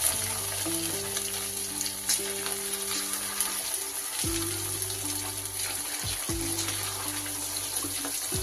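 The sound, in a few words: chicken frying in hot rice bran oil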